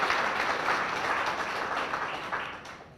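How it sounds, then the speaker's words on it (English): Guests at a chamber of commerce dinner give a round of applause, a moderate, steady patter of many hands that slowly fades toward the end. "If you join me in giving them a round of applause"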